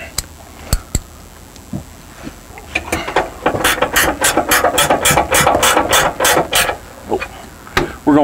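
Bolts on fifth-wheel camper landing gear are snugged up with a ratchet, giving a burst of rapid, loud, close clicking strokes in a steady rhythm after a few isolated knocks.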